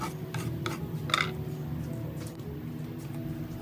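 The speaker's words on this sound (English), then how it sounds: "I am slowly chiseling off the gunk on top of the dresser" Chisel scraping tar gunk off the top of a thrifted wooden dresser, heard as a steady, close, raspy scraping under a constant background hum, with a few louder strokes.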